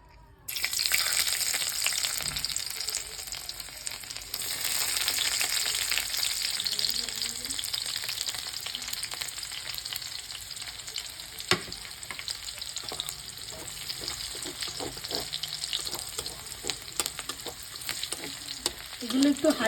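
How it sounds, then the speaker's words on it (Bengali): Chopped ginger and garlic fry in hot oil for a chili chicken dish, a steady close, bright sizzle with occasional stirring clicks and scrapes, no talking. "এবার আমি এই আদা রসুন কুচিগুলো এই গরম তেলে দিয়ে দেবো।"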